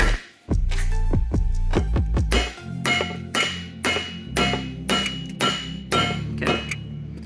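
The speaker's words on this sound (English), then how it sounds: "we'll just kind of use kind of like a post driver type technique. We'll just kind of pound it down on there," A metal Speedy sleeve is driven onto the axle of a 1989 Jeep Grand Wagoneer with a post-driver-style tool, a run of loud ringing metallic strikes, fast at first and then slower, evenly spaced blows, close and without speech.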